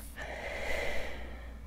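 A single slow, deep in-breath taken during guided meditation, a soft airy inhale heard close and steady for over a second, with no talking.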